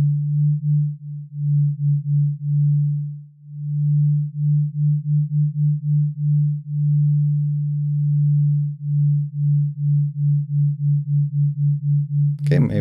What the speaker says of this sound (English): we have this beating effect, which is the result of phase cancellation happening between the two waves